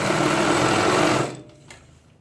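Sewing machine stitching Punjabi pajama trousers, a loud steady whirring run of fast needle strokes for about a second, then stopping abruptly with a faint click and quiet tail.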